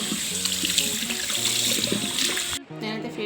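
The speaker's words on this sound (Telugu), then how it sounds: "ఇప్పుడైతే మనం అంతా క్లీన్ చేసేసుకుందాం నార్మల్ వాటర్తో" Tap water runs steadily into a sink while a face is washed with plain water, a continuous splashing stream that cuts off briefly near the end before resuming, with faint music underneath.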